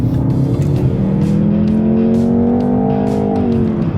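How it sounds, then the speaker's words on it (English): A 2018 Jaguar F-Type with a 2-litre engine revs and roars continuously with a throaty sports exhaust note, pitch climbing steadily as it accelerates, loud and close throughout. "you can click on that sports exhaust, and it still sounds"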